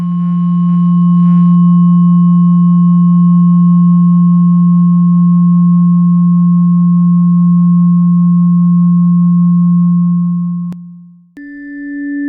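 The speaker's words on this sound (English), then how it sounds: "We'll start with the 174 hertz and move up." A steady 174 hertz pure sine tone holds loud and unbroken for about eleven seconds, then cuts off with a brief click before a different higher tone starts near the end.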